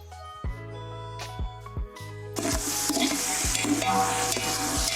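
Onions sauté in a pan for goat leg soup, a steady sizzle and frying hiss that swells louder partway through, with repeated sharp scraping stir strokes against the pan throughout, close and without talk.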